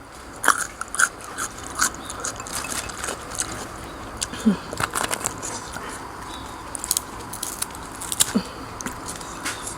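Crisp, wet crunching bites of spicy raw shrimp sashimi eaten with seafood dipping sauce and fresh wasabi, several close chews and bites scattered over quiet room noise.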